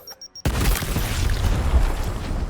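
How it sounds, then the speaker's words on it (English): Frag grenade blast in the video game Gears Tactics: after a few faint short tones, a sudden loud, deep boom bursts in and rolls on as a dense rumbling roar that fades slowly. "So Sid, you can throw a grenade on the one at the back."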